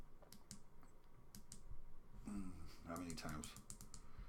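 Several sharp, quiet button clicks come in a loose series while an SPWM V3 voltmeter is being calibrated, followed by a person talking near the microphone.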